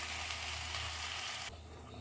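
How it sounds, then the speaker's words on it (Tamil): Brinjal and raw banana sautéing in a pan, giving a close, steady sizzle and crackle of frying that drops off sharply near the end. "வாழைக்காய் பொரியலுக்கு வாழைக்காய் வதங்கின்னு இருக்கு"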